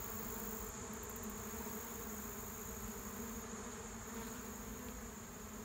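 Honey bees buzz steadily around a large cluster near an abandoned hive, a dense continuous drone that stays even and close throughout, with no voices.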